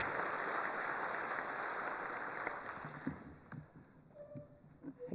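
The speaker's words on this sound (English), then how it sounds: "Let's give them all a round of applause." Applause from the audience at a college's annual State of the College address, a steady wash of many clapping hands that thins out toward the end, with a few separate claps standing out.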